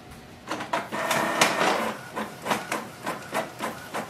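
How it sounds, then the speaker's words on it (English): Canon Pixma G4270 inkjet printer running off a page, giving a steady run of rhythmic mechanical clacks and whirring feed pulses, close and moderately loud, with no talking. "Let's do a print to confirm it."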